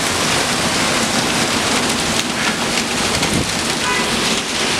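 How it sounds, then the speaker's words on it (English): Heavy monsoon-style rain driven by wind pours steadily over a flooding Brooklyn street, a loud, unbroken wash of drops hitting pavement and water with no pauses. "we have what they would call monsoon conditions. Driving rain,"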